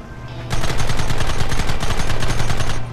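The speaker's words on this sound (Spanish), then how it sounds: "usa la ametralladora" A long, loud, sustained burst of rapid machine gun fire rattles in the Red Dead Redemption video game, with dense repeated shots close up and alone, and no talk.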